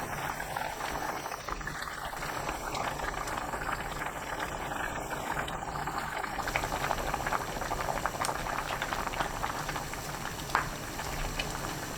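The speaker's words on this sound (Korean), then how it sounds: "팔팔 끓으면 청국장을 부셔 넣습니다." A pot of cheonggukjang stew at a rolling boil gives off a continuous dense bubbling and gurgling, steady and fairly soft throughout, with one brief small clink near the end.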